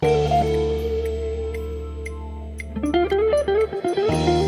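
The sampled song plays on its own: a sustained bass and mellow chords, with a melodic line stepping through short notes toward the end.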